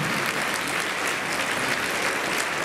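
Sustained applause from a holiday concert audience, many hands clapping in a thick, continuous wash at constant loudness, filling the room with no speech on top.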